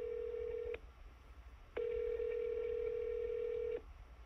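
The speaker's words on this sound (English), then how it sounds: "So let's call the number from my mobile phone." A mobile phone call placed through Aircall sends out steady electronic tone bursts: a short beep, a brief pause, then a longer ringing tone. The sound is clear, close and free of speech.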